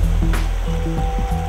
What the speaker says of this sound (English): This stream will soon become the Fairy Water River, gathering power as it starts to thunder through the hills towards the sea.